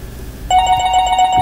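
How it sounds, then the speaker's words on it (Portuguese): A telephone starts ringing abruptly with a loud, steady electronic ringtone that continues to the end, heard close with no talking. "Ah, telefone, cala a boca."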